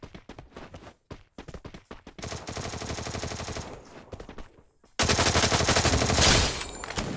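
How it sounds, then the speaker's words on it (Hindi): Gunfire in the Free Fire video game: bursts of rapid automatic shots, sparse at first, then dense sustained volleys, ending in a very loud continuous barrage. "ये लोग अंधा गोलियां चला ही जा रहे थे"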